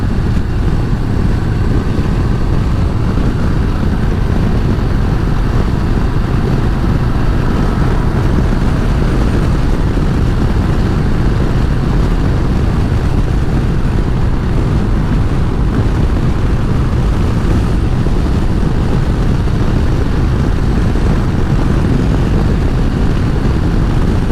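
A heavily loaded motorcycle cruises along a road on light throttle, its engine and wind rumble forming a loud, unbroken drone that stays constant from start to finish.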